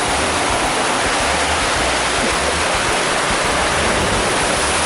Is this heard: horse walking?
no